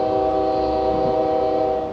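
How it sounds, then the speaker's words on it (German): A loud, sustained Amtrak train horn blares continuously with a steady multi-tone chord, close by, at a level crossing in the United States. "Diese Hupe von den Zügen ist so individuell"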